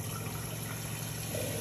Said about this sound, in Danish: så den fylder jeg lige op med helt almindelig vand et øjeblik